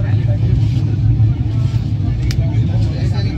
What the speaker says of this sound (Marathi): आमची ट्रेन अशी चालली आहे मस्तपैकी, एकदम मस्त एकदम नजारा आहे.